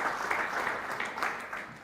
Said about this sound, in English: give a round of applause to our own brother